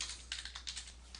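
Quick, faint keystrokes on a computer keyboard, a short run of light taps in a quiet room.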